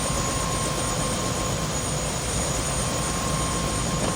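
A helicopter in the video game Prey, its rotor and engine making a continuous loud drone with a steady whine held throughout.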